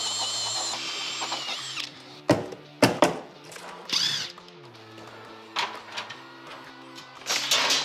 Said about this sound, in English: Let's drill the hole from the other side.